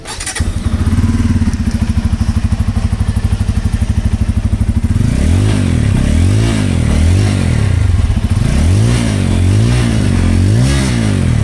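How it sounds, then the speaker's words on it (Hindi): A Bajaj Pulsar N250 motorcycle idles with a loud, close, throbbing exhaust note, then revs sharply several times in a row, each rise and fall clearly audible. "अब सुनो इसका एग्जॉस्ट नोट एक बार।"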